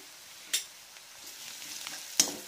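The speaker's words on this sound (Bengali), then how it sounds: "রসুন বাটা দিয়ে আবারও ভালো করে নাড়বো।" Onions fried to light brown with half a spoon of garlic paste are stirred in a pan. Soft, quiet scraping and sizzling, with two sharp utensil clicks against the pan, about two seconds apart.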